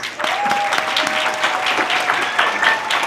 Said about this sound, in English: So a round of applause to yourself, to your faculty members, including myself, and to your family members